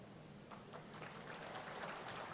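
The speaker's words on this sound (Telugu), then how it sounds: "సగమే చప్పట్లు కొట్టారు, ఇంకా సగం కొట్లా." Audience applause at a TDP political meeting, a faint, distant patter of many hands clapping continuously, low in level with no voices over it.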